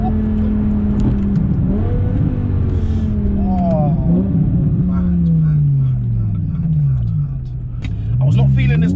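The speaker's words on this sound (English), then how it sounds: "let me just hush up and listen to this glorious V10." A BMW M6 with a V10 engine and Evolve stage 2 tune revs and accelerates hard, its engine note sweeping up and down through repeated gear pulls, loud and close from inside the car.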